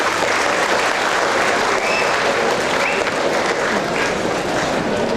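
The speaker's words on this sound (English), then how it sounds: "So please clap for yourself." An audience at a leadership talk claps in a sustained, dense burst of applause that stays loud and even from start to finish.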